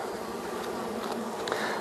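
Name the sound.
honey bees buzzing around a hive frame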